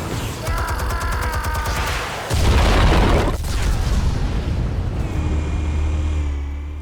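Explosives detonate in Batman: The Telltale Series, a deep booming blast swelling up after a steady low hum and rolling on loudly before settling into a droning tone.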